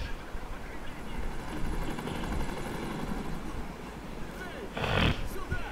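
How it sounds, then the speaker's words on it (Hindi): Helicopter rotor noise in Resident Evil 3 passes overhead as a loud, steady drone with a brief swell near the end, while a person talks over it. "यहाँ पर हेलीकॉप्टर भी गुजरा है"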